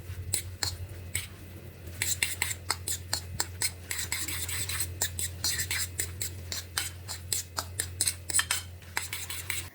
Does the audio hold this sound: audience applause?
no